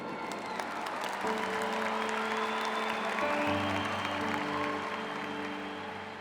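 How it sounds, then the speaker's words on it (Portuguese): Church congregation applauding a young man introduced by a priest, steady broadband clapping filling the space with sustained tonal hum and background voices underneath throughout. "pode aplaudir, pode aplaudir"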